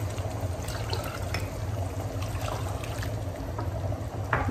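Water poured into a pot of mutton korma cooking on a high flame, a steady continuous splashing trickle lasting several seconds with no talk over it.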